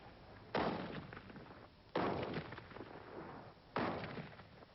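Three heavy gunshots from historical firearms fired at a shooting club's practice, each a loud sharp report with a long rolling decay, spaced roughly one and a half seconds apart with no talk.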